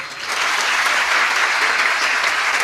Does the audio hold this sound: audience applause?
yes